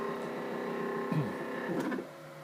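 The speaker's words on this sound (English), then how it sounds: "So I'm printing now a really huge one with my new 3D printer." A large, new 3D printer printing a big Stanford bunny gives off a steady, quiet electric whine with layered tones, plus two brief motor sweeps as the print head changes direction. The sound is near and continuous, with no talk.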